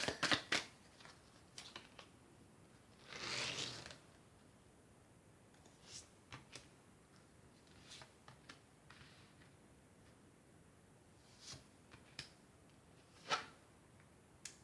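Tarot cards being shuffled and nine drawn by hand: a short riffling burst early on, then soft, scattered flicks and snaps of cards laid down, quiet and close, with no talking.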